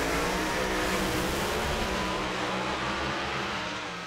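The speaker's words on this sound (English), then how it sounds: "Yet another great drag race, and what a battle!" Pro Mod drag cars, a Corvette and a 1969 Dodge Daytona, roar side by side down the strip. It is a loud, dense, continuous engine blast that fades slightly at the end, with no talk.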